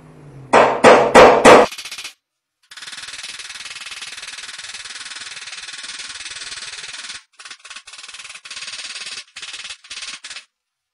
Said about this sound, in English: When you're hammering your dings out, don't get all physical with it. Just nice and lightly tap that thing up.